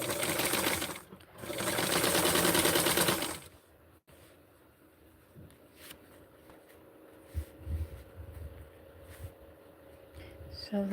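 A sewing machine hems vintage 1960s barkcloth. The stitching runs loud and steady for about three seconds, then gives way to quiet fabric handling and small clicks nearby.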